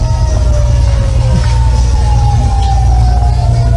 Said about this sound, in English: Sounds like sirens.